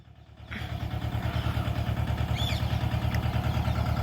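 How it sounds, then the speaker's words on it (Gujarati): A tractor engine running as it pulls up at a farm field, a steady throbbing diesel idle with a low rhythmic pulse starting after a brief quieter moment, close and continuous. "હજી એક ટ્રેક્ટર આવે છે"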